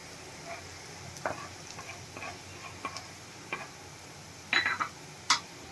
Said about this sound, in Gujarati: બે કડી ઝીણું સમારેલું લસણ છે એ એડ કરશું આપણે બે મિનિટ માટે લસણને થવા દેશું